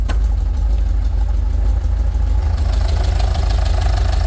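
A VW T25 van engine with twin carburettors and a sports exhaust idles close by, a loud, steady low rumble with a slightly uneven throb and no talking over it.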